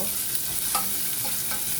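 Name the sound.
garlic and onion frying and stirred in a hot pot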